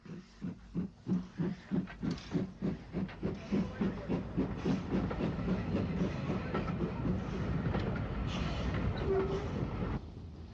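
A 0-4-4 steam tank locomotive on the Isle of Wight railway departing, with rhythmic exhaust chuffs that start slow and distinct then quicken and blur into a continuous hiss and rumble, close and fairly loud.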